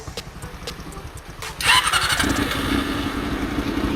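Underbone-style scooter being worked on during an electrical and overheating repair coughs into life partway through, its idle settling into a steady, close putter after a sharp squeal and a short burst of starter whir.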